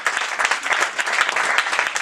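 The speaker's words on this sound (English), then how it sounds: "we got to give Mary Alford a round of applause" A crowd at a Republican straw poll event in Bristol, Connecticut bursts into brisk applause, a dense burst of close hand claps over about two seconds.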